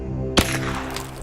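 A single sharp rifle gunshot cracks out during a mountain lion hunt in Sonoma County, one brief loud report over a steady low background hum, with no talking.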